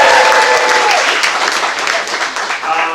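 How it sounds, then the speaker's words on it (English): An audience at a story slam claps loudly and steadily, a dense close wash of applause that tapers slightly near the end with a voice faintly underneath. "A big hand for Saturn for having us here"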